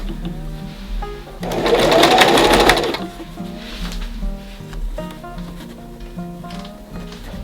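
Sewing machine stitching fabric for a simple face mask, a loud whirring run of a couple of seconds followed by slower, softer stitching bursts and faint mechanical clicks.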